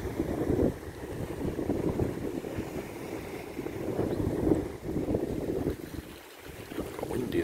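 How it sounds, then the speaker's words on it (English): Strong wind gusting across a microphone on a seaside breakwater at a harbour bay, a rough, roaring buffet that rises and falls in waves with a brief lull near the end, no talk. "Got windy then, didn't it?"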